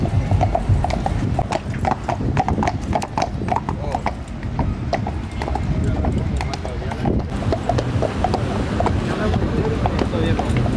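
Horses walk in the Mazatlán carnival parade, hooves clip-clopping steadily on pavement up close, with an occasional whinny, crowd noise and wind, and people talking throughout.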